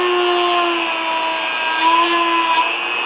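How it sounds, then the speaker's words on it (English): A small power drill enlarges a hole in a miniature wood figure carving, giving a steady high whine with a constant pitch throughout, close and loud with no talk. "Let me drill that hole a little bit bigger."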